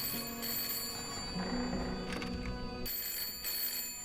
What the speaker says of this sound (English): Okay, we'll answer the phone before we do anything else that stops ringing.